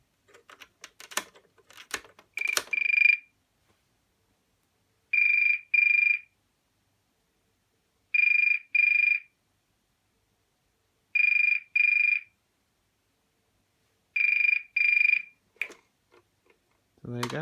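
Bursts of a 1981 BT Snoopy and Woodstock novelty rotary trim phone ringer warble in five evenly spaced double pulses, slightly muffled, after brief handling noise at the start and before a soft thud at the end.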